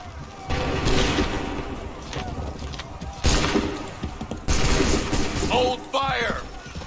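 Musket volleys crack out in Assassin's Creed 3, loud bursts of battlefield gunfire swelling and fading over a noisy din, with shouted voices near the end.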